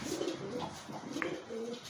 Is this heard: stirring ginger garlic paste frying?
no